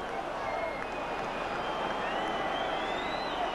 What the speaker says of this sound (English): Crowd calling for the final whistle.